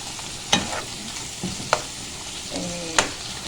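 Meat browning with onions in a pan sizzles softly, broken by three or four sharp clanks and scrapes of a spoon stirring against the pot.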